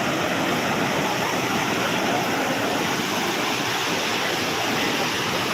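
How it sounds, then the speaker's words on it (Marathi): Sea waves washing onto the shore at Guhagar beach in Konkan, a continuous broad roar of surf, steady and close, with no talking. "मध्येच एखादी मोठी लाट येते आणि तो आवाज नैसर्गिकरित्या खूप छान असतो ऐकायला"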